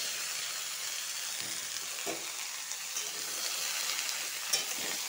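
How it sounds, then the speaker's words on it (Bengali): Small pieces of chopped ridge gourd fry in hot oil with cashews, raisins, cinnamon and cardamom, giving a steady, fairly loud close sizzle with a few soft stirring knocks and no voices. "ছোটো ছোটো করে ঝিঙ্গা কেটে রেখেছি, এটা এখন একটু তেলের সাথে ভালো করে ভেজে নিব।"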